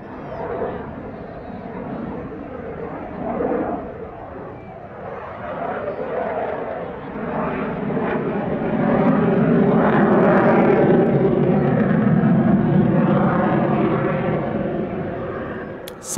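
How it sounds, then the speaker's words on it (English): A Sukhoi Su-30 fighter jet at an airshow in Langkawi, a broad sustained engine roar that swells louder in the second half, heard from a distance with crowd chatter faintly beneath. "the Su-30 briefly flying at in excess of 90 degrees of alpha"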